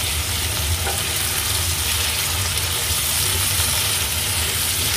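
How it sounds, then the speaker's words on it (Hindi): Chopped tomatoes with about a tablespoon of water sizzle steadily in a pan while being stirred for a chickpea curry. Continuous loud frying hiss with faint scraping from the stirring, and no voices. "इसे कंटिन्यूसली स्टिर करते रहें।"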